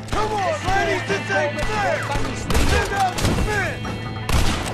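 Gunfire rattles in rapid bursts during a canyon shootout in the video game Red Dead Redemption, loud and close over a continuous game soundscape with whooshing, swooping effects.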